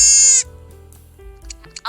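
A fawn bleating sound effect from the CapCut library: one loud, wavering bleat lasting under half a second, followed by faint, scattered noises and no talk.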